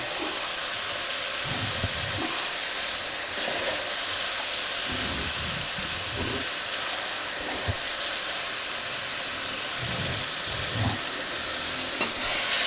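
Potatoes frying in a pan for an aloo gobhi salan, a constant close sizzle with scattered scrapes and knocks of stirring throughout, no voices.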